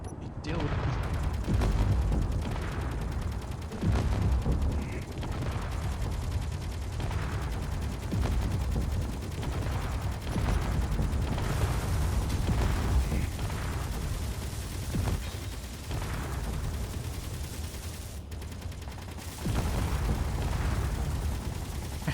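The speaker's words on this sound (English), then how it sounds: "I hate how much Gatling fire I'm hearing because that's so much wasted ammo." Gatling guns fire almost without pause in the video game Underground Alone, a dense, rumbling stream of rapid shots mixed with explosions. A voice talks over the steady barrage.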